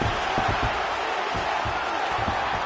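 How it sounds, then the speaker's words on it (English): A UFC arena crowd roars steadily throughout, a dense, loud wash of cheering as a fighter reverses position, with no break in the noise. "Crowd goes crazy as she reverses the position."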